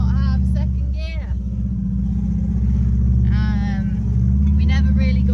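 An old car nicknamed Ruby drives on with no second gear, its loud, strained engine droning steadily beneath a voice speaking over it.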